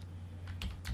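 A few quick keystrokes on a computer keyboard click softly over a steady low electrical hum, two taps standing out near the end of the brief moment.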